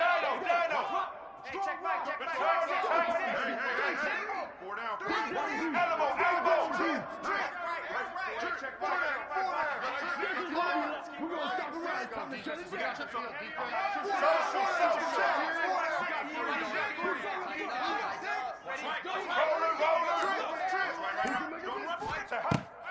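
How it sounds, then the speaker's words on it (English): Ohio State Buckeyes home stadium crowd roaring on a third down against Utah, a dense, loud, sustained din with a commentator talking over it. "The Buckeye crowd alive on third down."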